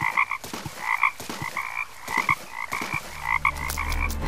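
Cartoon frogs croak in a quick series of sharp, rhythmic calls, loud and close, with a low hum entering near the end.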